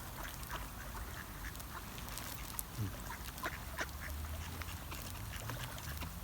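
Hungry ducks being fed donuts quack in scattered, short calls over a constant outdoor hiss, fairly faint and irregular, with no voices.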